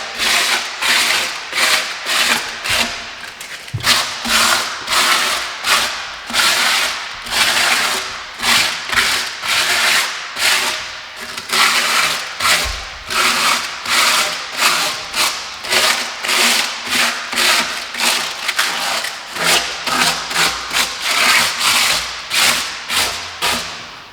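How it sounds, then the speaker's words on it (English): Coarse 60 grit sandpaper scratches quickly over a surface to knock down high points, a brisk train of rhythmic rasping strokes, close and fairly loud, repeating steadily with short gaps. "using the sandpaper just to create that tumble effect. Give it a quick scratch, 60 grit."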